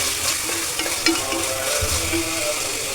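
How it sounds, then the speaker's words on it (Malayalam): Ginger and curry leaves sauté in a pan for a beef dish, giving a loud, dense sizzle with stirring and a few scrapes and clinks from the utensil, steady for the whole stretch without speech. "ഇഞ്ചി, കറിവേപ്പില, വഴറ്റി കൊടുക്കാം."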